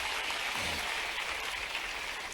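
Applause from an audience at an agricultural innovation dialogue event in Bhopal, a steady, dense wash of clapping held at even loudness throughout, with no voices standing out.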